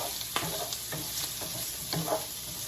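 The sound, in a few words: zucchini and prawns cooking in a skillet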